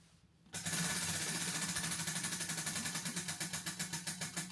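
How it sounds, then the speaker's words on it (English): A TBR prize wheel is spun, starting abruptly into a rapid, loud run of ratcheting clicks that gradually space out and slow as it winds down. "So let's go ahead and spin the wheel for that."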